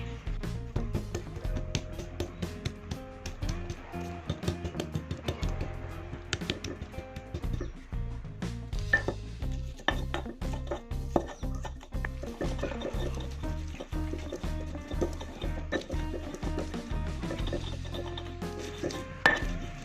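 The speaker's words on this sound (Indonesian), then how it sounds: "Sekarang kita akan geprek bawang merah dan bawang putihnya." Shallots and garlic smashed with a stone for ayam geprek sambal, a run of repeated sharp pounding knocks and crushing rasps, close and fairly steady, with no talk.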